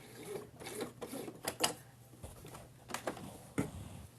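A sewing machine stitches the fabric of a face mask in short, uneven bursts of quiet mechanical whirring with small clicks, close by and faint, with no speech.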